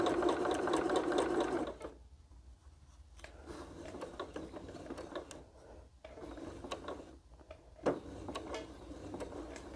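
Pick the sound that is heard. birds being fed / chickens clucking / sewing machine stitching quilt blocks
sewing machine stitching quilt blocks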